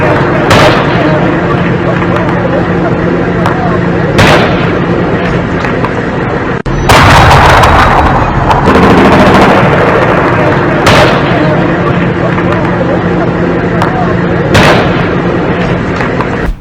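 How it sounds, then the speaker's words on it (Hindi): Bombing and gunfire in an Afghan war zone, loud repeated blasts and heavy booms every few seconds over constant rumbling battlefield noise, with a dense roaring stretch in the middle. "चारों तरफ बमबारी, गोलीबारी, यानी जंग में, यानी मैदान जंग में"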